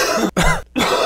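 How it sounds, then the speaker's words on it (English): A person coughing hard three times in quick succession, loud and close, with brief gaps between the harsh bursts. "I'm literally going lightheaded from coughing so much."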